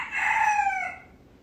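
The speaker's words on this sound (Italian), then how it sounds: "Il gallo canta." A rooster crows once, a clear, loud, close call that starts strongly and tails off into quiet after about a second.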